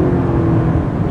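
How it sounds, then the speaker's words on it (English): Toyota Avalon Hybrid engine running on the road, a steady close drone with low whir and faint tire and road noise throughout, no voices. "you listen to that engine and realize that this is a hybrid"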